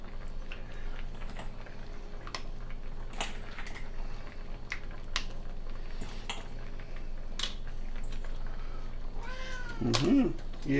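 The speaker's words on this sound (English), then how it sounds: "Yes, Caesar, that's my cat." A house cat gives a single clear meow near the end, heard amid faint kitchen clinks and background noise while fish stew cooks on the stove.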